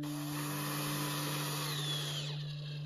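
Power drill driving screws into a skylight frame, a steady loud whirring motor drone with a sustained pitched hum that eases off near the end.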